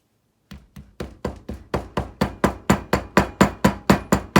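A rapid run of dull hammer blows driving a mandrel into packed red clay casting sand in a flask, close and steady, growing slightly louder as they continue without pause.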